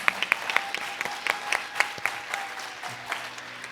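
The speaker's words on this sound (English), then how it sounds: "A big round of applause." Audience applause for a Bharatnatyam arangetram orchestra, a few seconds of scattered hand claps with distinct individual claps standing out, thinning slightly toward the end.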